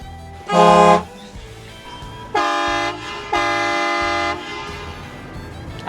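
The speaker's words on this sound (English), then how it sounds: "The boys and their air horns" RV air horns blare in three loud, sustained blasts, a short first toot followed by two longer ones, with an engine idling low underneath.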